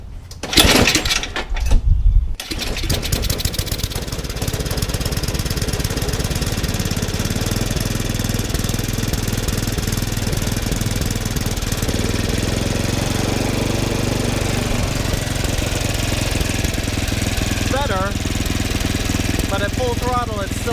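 A Yard Machines snowblower engine fired with a pull cord after fresh gas was added catches with a few loud chugs, then settles into a steady, close, continuous running drone that surges and hunts slightly, without talk over it.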